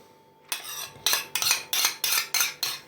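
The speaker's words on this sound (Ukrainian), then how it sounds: "залишається лише трішки нам перемішати салат, і він повністю буде готовий" Purple cabbage salad dressed with homemade mayonnaise is mixed in a bowl, about seven regular close clinks and scrapes of a utensil against the dish after a short quiet start.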